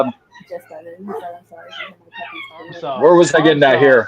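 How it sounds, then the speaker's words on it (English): Newborn puppies, a few days old, whimper and yip in the background while someone talks over them, their high cries rising louder toward the end. "if you can hear my baby puppies in the background"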